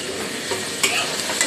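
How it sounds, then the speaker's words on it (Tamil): Tomatoes and onions sauté in a pan for vadakari, giving a steady close crackling sizzle with a few louder stirring scrapes partway through. "தக்காளி வெங்காயம் எல்லாம் நல்லா வதங்கணும்."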